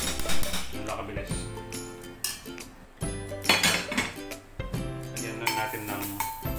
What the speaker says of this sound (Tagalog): Lagyan natin sa sizzling plate.